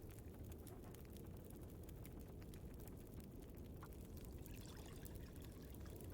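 Water pours in The Long Dark survival game, a steady, faint trickling wash that runs unbroken for several seconds with no voices over it.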